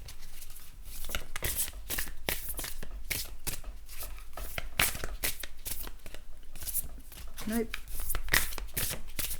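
Oracle cards are shuffled by hand in quick, repeated riffling bursts, close and crisp, while someone talks over them.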